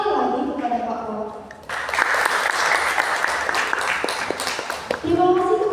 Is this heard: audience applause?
yes